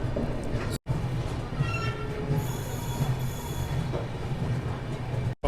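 A Janshatabdi Express train pulls into Vijayawada Junction with a steady loud rumble, high-pitched wheel squeal, and faint clatter of railcars, heard close and continuous.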